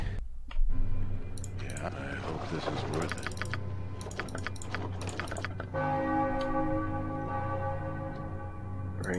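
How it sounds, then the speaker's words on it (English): A bell tolls inside the 2001 BioWare game Baldur's Gate II: Throne of Bhaal, ringing out over the game's background music along with loud keyboard typing and clicks. A voice speaks in the clip. "Let the bell be rung forth a second time"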